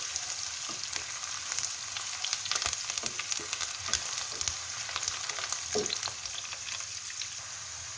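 Mustard seeds, cumin and a few curry leaves fry in hot oil for a South Indian chicken karahi, giving a continuous close sizzle dotted with small pops and crackles.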